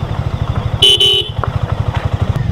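A motorcycle rumbles along a coastal highway in Konkan, its engine throbbing in a steady beat, while a loud, bright horn honks twice in quick succession partway through.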